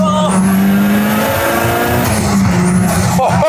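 A Ferrari 360 accelerates hard on a high boost map, its engine screaming loud and close with a rising whine. Brief tire squeal cuts in near the end.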